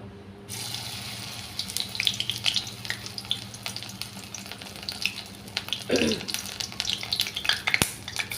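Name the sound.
batter frying in hot oil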